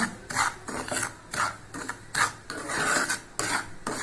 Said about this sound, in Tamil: ஒரு கப் கோதுமை மாவுங்க ஒரு கப் ரவா நம்ம இதில் சேர்த்துக்கலாம் நல்லா வறுத்தரணுங்க